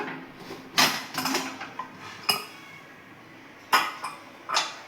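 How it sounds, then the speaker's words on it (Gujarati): Pressure cooker holding cooked lentils being opened, heard as several close metallic clanks and scrapes of the lid against the pot, spaced irregularly, with quieter rattling between them. "હવે આપણે દાળના કુકરને ખોલીને જોઈ લઈશું"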